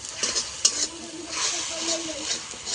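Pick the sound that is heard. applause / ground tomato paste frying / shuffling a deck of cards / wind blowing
ground tomato paste frying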